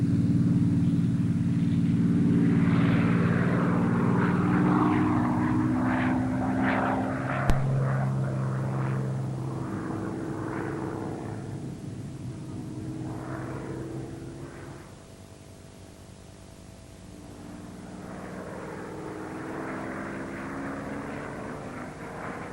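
A Supermarine Spitfire fighter passes overhead, its propeller engine droning loud and near, then fading away before a second aircraft engine swells back in, with no talking.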